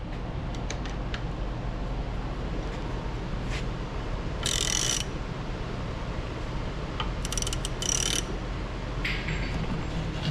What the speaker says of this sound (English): We're gonna run this manually with a ratchet.